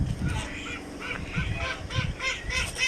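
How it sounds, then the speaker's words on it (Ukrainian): A crowd of ruddy shelducks, mallards and white ducks call and honk together, overlapping nasal quacks and honks close by in a busy, continuous chorus. "Тут огарі, крякви, ось білі качки"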